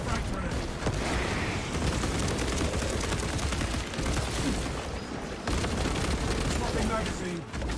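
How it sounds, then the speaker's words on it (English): Frag grenade blast in a squad shooter game, part of a dense stretch of rapid gunfire and explosions, loud and continuous, with battle chatter mixed in. "Releasing frag grenade."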